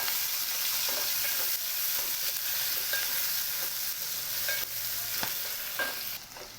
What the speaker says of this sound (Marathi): कांदा आता लालसर होईपर्यंत परतून घ्यायचा